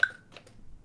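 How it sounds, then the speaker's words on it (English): A single hollow wooden click from a wood block struck with a mallet rings briefly, followed by a faint softer tap, alone in quiet. "So here's an example of a wood block."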